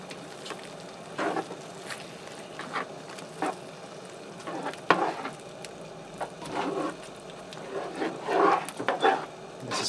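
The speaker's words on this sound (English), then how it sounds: "stir that in." Greek yogurt is stirred into skillet beef stroganoff, giving irregular bursts of thick, wet scraping and squelching against the pan, spaced through the stretch over a quiet background.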